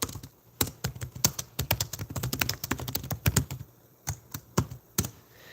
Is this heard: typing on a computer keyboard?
yes